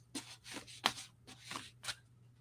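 A second-edition deck of playing cards is shuffled close up, several quick riffling bursts spaced out in a quiet room with a low background hum.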